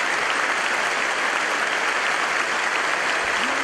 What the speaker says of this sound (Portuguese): forte essa salva de palmas